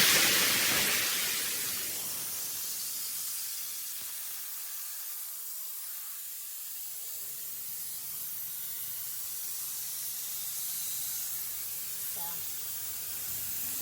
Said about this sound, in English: I'm going to release all the air out of the tank.